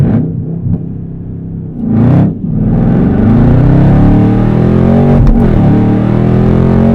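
A Chevrolet ZL1 Camaro launching from a standstill in sport mode with traction control on, a loud close engine roar that rises in pitch, dips briefly at a gear change and keeps climbing hard to the end.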